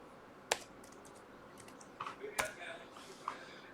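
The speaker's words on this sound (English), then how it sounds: "Let's retype the password" Password typed on a computer keyboard, a few soft, quiet key clicks in an irregular pattern.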